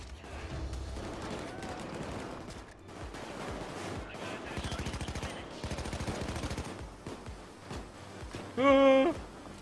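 Rapid bursts of automatic gunfire in the video game Payday 2, dense rattling volleys over several seconds, followed by a voice speaking over the game audio.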